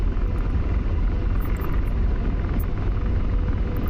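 A P-47 warplane in the DCS flight-combat game drones loudly and steadily with a dense, unbroken propeller-engine rumble throughout.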